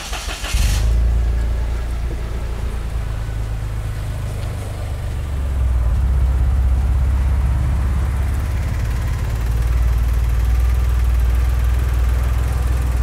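A Daihatsu Ayla Turbo's small engine starts with a brief burst, then idles steadily with a smooth low hum and a slight rise in rumble partway through.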